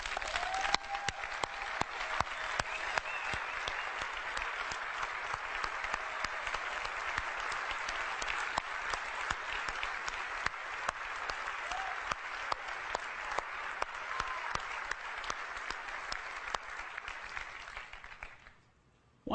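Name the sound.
audience applause at an Apple music event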